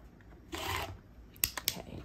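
Quilt fabric being cut into squares: a soft rasping slice through cloth followed by a couple of quick, sharp snips or clicks, close and fairly quiet with no talking.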